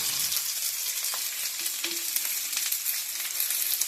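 Onion frying in a hot pan, a steady hissing sizzle with light crackles and occasional stirring, loud and close without pause.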